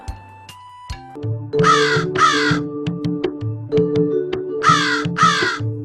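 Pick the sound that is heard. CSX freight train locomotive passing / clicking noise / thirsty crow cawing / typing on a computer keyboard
thirsty crow cawing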